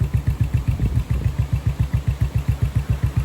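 A Royal Enfield Bullet motorcycle engine runs at a slow, even thump, each firing pulse distinct and regular, close and steady with no talk.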